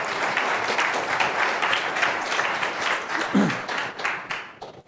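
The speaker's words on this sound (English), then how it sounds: "Applause." An audience at a talk on ChatGPT and generative AI applauds steadily as a speaker is introduced. The dense, even clapping is moderately loud and fades out near the end.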